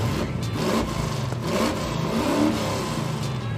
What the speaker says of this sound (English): the next thing you're gonna see is the wreck runner doing donuts with permission of the owner